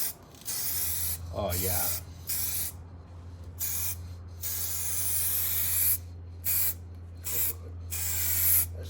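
A spray can of paint is sprayed onto car bodywork in coats, with repeated loud, close hissing bursts separated by short pauses and a steady low hum underneath; a voice speaks briefly.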